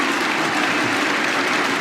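Cricket crowd at an Ashes Test applauds steadily as Joe Root scores his first run of the morning session, a broad, dense wash of clapping with no break across the short stretch.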